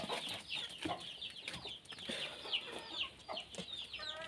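A native hen clucks softly while brooding eggs, giving repeated short, close but faint clucks and chirps with brief pauses between them.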